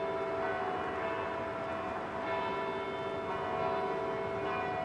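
Bells ring across a valley during a bell concert in Burlington, a faint, distant wash of sustained, overlapping tones that hangs steadily with no clear separate strikes.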